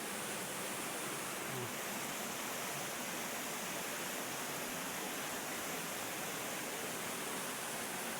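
A waterfall feeds a lagoon in Mindoro, ringed by large trees and rocks, producing a steady, even rush of falling water that holds at moderate level throughout with no breaks or voices.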